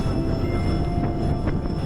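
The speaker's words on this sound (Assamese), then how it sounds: "অলপ সময়ৰ পিছতে আমি পালোঁগৈ ডিব্ৰুগড় ৰেলৱে ষ্টেচন" Train pulling into Dibrugarh railway station in Assam, heard from on board as a continuous, loud low rumble of wheels and carriages without pause.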